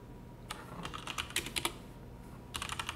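Computer keyboard typing a terminal command, quick bursts of light, close key clicks in short irregular runs with brief pauses between them, set against a quiet room.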